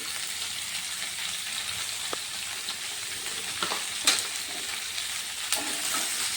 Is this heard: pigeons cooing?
no